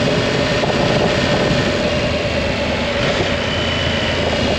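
A Triumph Tiger 1200 GT motorcycle engine pulls hard on the throttle, a loud, dense roar mixed with rushing wind noise that holds steady throughout.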